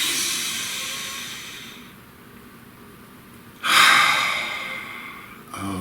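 One person breathes deeply and close up, a long slow hissing breath that tapers off, a quiet pause, then a sudden strong audible breath that gradually fades.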